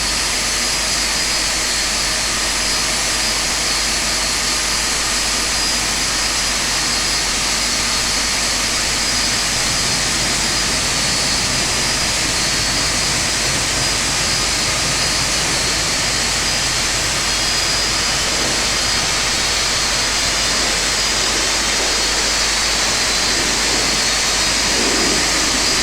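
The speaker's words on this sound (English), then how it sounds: "Starting engine 4. Start valve open. Okay, N2's increasing now for 3 and 4" Boeing 747-200 engines 3 and 4 spooling up during start in the X-Plane 11 flight simulator, a loud, steady jet roar with a high whine layered on top, continuous and unbroken throughout.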